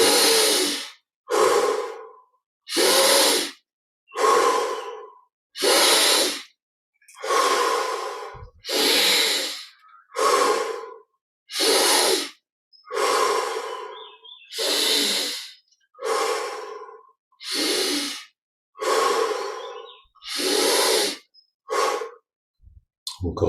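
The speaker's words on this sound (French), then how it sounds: "On inspire par le nez. Expire par la bouche." Slow, deep guided-meditation breathing: about fifteen long cycles of audible inhales through the nose and breathy exhales through the mouth, close and steady with short silent gaps between breaths.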